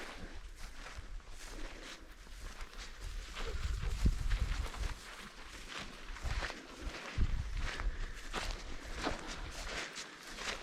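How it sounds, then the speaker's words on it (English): Footsteps squelch through a marsh in Norway's Nordmarka forest, a series of soft, close, irregular steps against a quiet outdoor background. "You can probably hear my footsteps in the marsh. It's like swoop, swoop."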